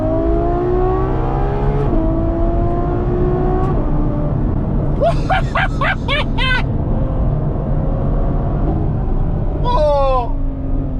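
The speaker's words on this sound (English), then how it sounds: "this is what this car is really all about. It's the noise." A Ferrari F12 Berlinetta V12 rumbles loudly nearby, then accelerates hard through two bursts of rising revs with quick upshifts, the deep engine note dominating throughout.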